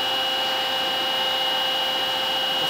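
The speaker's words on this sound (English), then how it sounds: "At this time of unclamping and clamping, the saw guide arm will come in along with the vise." The vise of a DoALL DCDS-750SA band saw clamps while its guide arm slides in, producing a steady mechanical whir with a close, constant hum and no speech.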